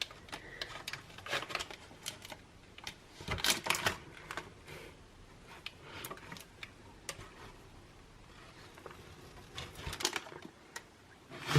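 Sharp knife slicing a slab of keto dark chocolate truffle mixture into small pieces, producing a string of soft, close clicks and taps against the board in an irregular rhythm, with no talking.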